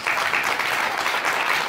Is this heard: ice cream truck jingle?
no